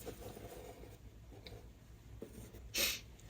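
Soft pastel sticks scratch lightly across paper in faint, dry strokes while a dark green horizon line is sketched, with one brighter, sharper stroke near the end.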